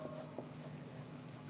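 Chalk or marker strokes on a classroom board during an engineering lecture on the method of joints, faint scratching marks under steady room hum with no talk.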